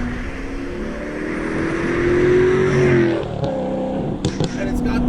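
An Alfa Romeo 8C Competizione with an F1 single-clutch gearbox accelerates, its engine note rising steadily and then dropping as the car eases off, heard from inside beneath people talking.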